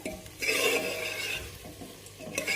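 Mutton pieces frying in a home kitchen pan, a steady close sizzle with scraping stir sounds running through the short stretch, no talking.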